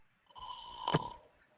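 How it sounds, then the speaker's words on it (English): A single snore rises from somewhere in the background, one drawn-out snort with a brief louder peak near its middle, faint and distant behind an otherwise quiet room. "I hear somebody snoring in the background."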